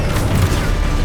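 Confringo fire spell detonating in Hogwarts Legacy, a short, dense, loud burst of blast noise with a heavy low boom that stays constant through the whole second.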